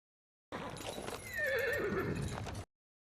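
A horse whinnies loudly in a fantasy TV drama, with hooves clopping beneath the call as it rises and falls over about two seconds, close and clear.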